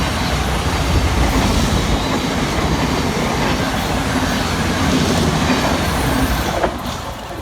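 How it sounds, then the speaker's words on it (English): Southern Thameslink Class 700 unit passing through Purley station in South London: a loud, close, steady rumble with clattering wheels and faint squeals, easing off at the very end. "Next flight through the station for Southern and Thameslink is 700 108, working 9J44 from Horsham through to Peterborough."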